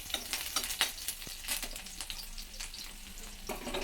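Green chilies frying in hot oil in a pan for an Odia egg momo recipe, a steady close sizzle with crackling pops and occasional stirring, no voices.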